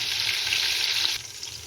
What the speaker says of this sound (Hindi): तो देखें गोश्त हमारा बहुत ही अच्छी तरह भुन रहा है।